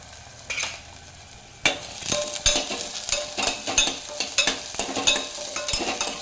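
Chillies and green peas fry in a pan for a fenugreek pulao, with a steady sizzle under repeated scraping stirs of a spoon against the pan, close and moderately loud.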